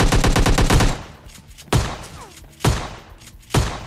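Gunfire in PUBG Lite, a loud rapid burst of automatic shots lasting about a second, followed by three separate single heavy shots spaced roughly a second apart.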